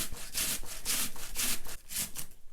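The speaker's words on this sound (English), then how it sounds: "First, I need to grate a red onion." Red onion being grated by hand, a steady run of rough rasping strokes, about five loud scraping passes in quick rhythm close up, with no talking.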